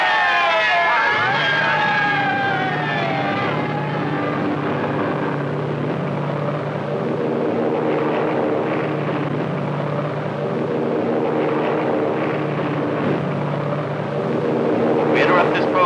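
A Pan Am China Clipper flying boat from 1935 departs with its propeller engines droning, a loud, steady, throbbing hum that holds for the full length with only slight swells in level.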